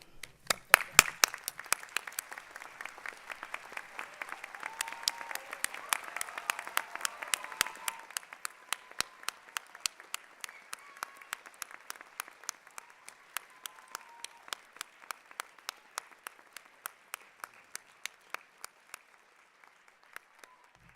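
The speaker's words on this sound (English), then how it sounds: "stand up, turn around, even if they're not here, and applaud them" Commencement audience at the UT Dallas 2022 fall hooding ceremony applauding loudly at first, the dense clapping thinning over about twenty seconds into scattered individual claps, with faint talk beneath.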